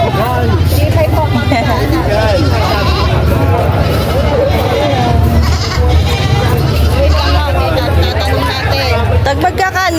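Goats bleat repeatedly at a busy Philippine livestock market, their wavering calls overlapping close by amid a constant babble of buyers and sellers talking.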